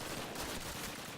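A tank's coaxial machine gun in the Call of Duty Classic Berlin finale fires as a dense, continuous burst of rapid gunfire that fills the whole brief moment at steady loudness.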